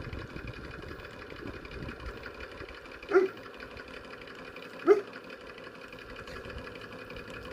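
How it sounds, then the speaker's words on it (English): A dog barks twice, each a short single bark a couple of seconds apart, heard over a steady engine-like idling hum. "you hear my dog bark after I say that"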